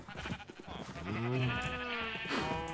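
Bleating from blocky Minecraft sheep stuck in a villager breeding farm: a couple of long, quavering baas follow each other, the later one fuller and closer, over faint background game noise.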